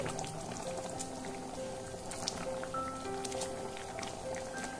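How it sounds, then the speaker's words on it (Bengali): A curry with potatoes and dried chillies bubbles steadily in a pan, a continuous soft blub and pop of boiling liquid at moderate close range with no talk. "তরকারিটা খুব ভালো ফুটে গেছে"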